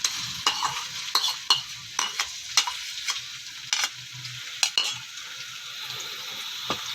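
Onions frying in ghee in a pan, a steady close sizzle broken by repeated sharp scrapes and clinks of a spoon stirring against the metal, with no voices.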